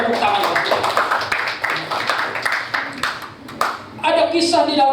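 A church congregation claps briefly during a sermon, scattered hand claps mixed with voices, uneven and moderately loud, with talking continuing underneath and rising again at the end.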